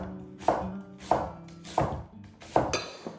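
Knife chopping onion into half-moon strips on a cutting board, four sharp evenly spaced thunks about two-thirds of a second apart, close and clear.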